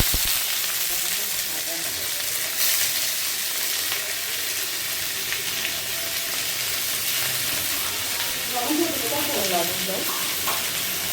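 Ingredients frying in hot oil in a home kitchen, a continuous close sizzle and crackle with a few louder pops near the end, no one speaking.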